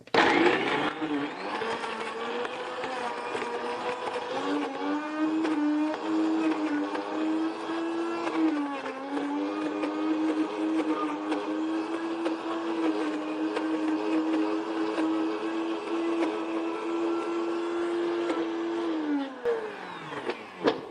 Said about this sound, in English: sometimes the blender can't actually do its job